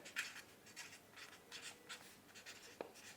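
A pen scratches across paper in short, regular strokes, faint and close, with quiet pauses between the bursts of writing.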